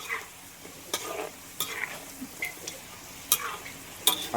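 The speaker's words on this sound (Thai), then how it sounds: "เอาใส่กระทะ แล้วไปทำอย่างอื่นไม่ได้นะ ต้องคอยคนอย่างนี้นะครับ" French fries frying in oil in a pan are stirred, with sharp intermittent scrapes and clacks over a soft, continuous sizzle, close up and without talk.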